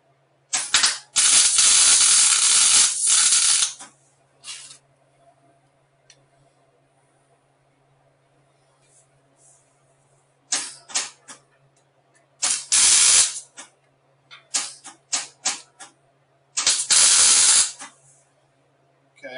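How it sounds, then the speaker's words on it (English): A hot wire-feed welder running 40-thousandths wire on car kick panels, heat turned up, crackles and hisses loudly in several bursts of one to three seconds separated by quiet gaps. "This is where we're welding."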